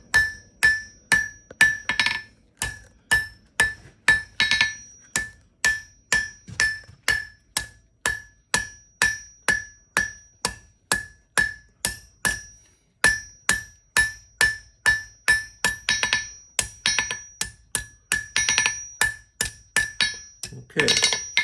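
Flat-face hammer forging a steel leaf on an anvil, sharp ringing metallic strikes repeating in a steady rhythm of roughly two blows per second, close and bright, with brief pauses between runs.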